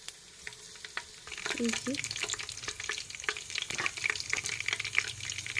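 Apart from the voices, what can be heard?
chopped garlic frying in oil, being stirred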